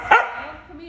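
A corgi gives one sharp, close bark near the start, which fades into a quiet tail with light background noise.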